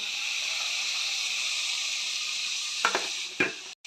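Tomatoes tossed into hot oil with browned chilli masala sizzle in a steady, bright hiss, broken near the end by a couple of quick stirring clatters of a utensil in the pan.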